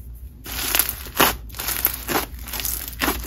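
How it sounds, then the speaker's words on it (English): Crunchy, creamy snow fizz slime scented like lemon iced tea is squeezed and pressed by hand, giving close, repeated bursts of crackling crunch and crinkle in an irregular rhythm with quiet pauses between. "The final texture is a super stretchy, creamy, and crunchy snow fizz slime that inflates a ton."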